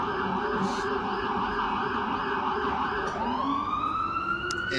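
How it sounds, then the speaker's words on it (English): An ambulance siren wails continuously on a city street near Katz's Deli, loud and close with a pitch sweep partway through as it passes, over steady traffic rumble. "we're going to let this ambulance go by before"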